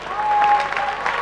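An audience at a tribute event for a combat sports champion applauds, producing a dense, steady burst of clapping from a crowd.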